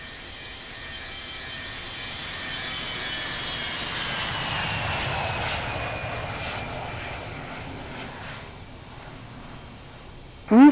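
An airliner departing from Sydney Airport on runway 16 right: steady jet engine roar that swells over several seconds, then slowly fades as the aircraft moves away, ending with a brief loud burst up close.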